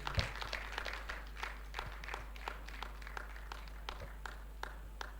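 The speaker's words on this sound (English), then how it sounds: "A round of applause for Pastor Tunji Idowu." A conference audience applauds a pastor at a women's conference, giving steady, dense clapping with scattered sharper claps over a constant low hum, moderately distant and without talk.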